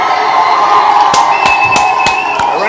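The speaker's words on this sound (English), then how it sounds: "Let's give him another round of applause." A live audience cheers and claps loudly and continuously, with sharp individual claps and whoops standing out from the crowd noise.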